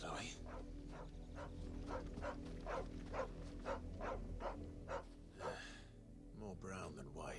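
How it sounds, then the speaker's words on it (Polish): A dog barks in Final Fantasy XVI near windmills, a string of short, sharp barks in steady rhythm over constant game music and ambience, with a speaker talking at times. "Ale na co szczeka? To jest pytanie."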